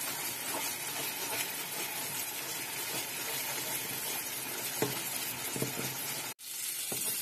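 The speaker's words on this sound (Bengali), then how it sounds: "এবারে আমি এটাকে নাড়তে থাকবো" Spices and green chilli fry in a pan with a steady close sizzle and hiss throughout, broken by occasional soft stirring knocks and a brief dropout near the end.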